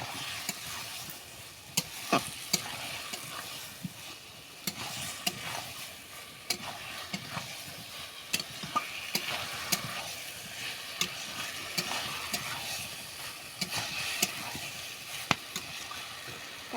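Jackfruit sautés in spice masala in a pan, with a soft continuous sizzle and frequent sharp clacks and scrapes from a spoon stirring the pieces.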